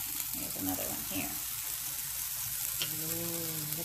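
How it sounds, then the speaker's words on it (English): Blueberry pancake batter sizzles on a hot skillet, a steady close hiss with brief scraping touches, while a voice speaks over it near the end. "look at them spreading out and sizzling"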